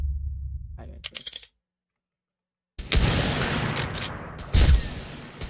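Sniper rifle shots in a Roblox shooting game, with a couple of sharp cracks early on, then a silent gap, then dense, loud bursts of gunfire and impacts.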